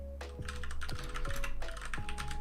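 Rapid keystrokes on a computer keyboard, close and fairly quiet, come in quick uneven bursts over a low background hum.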